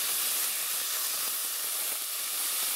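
Ginger, garlic and onion sauté together in a hot pan with garlic paste, giving off a loud, continuous hissing sizzle that holds steady from start to finish.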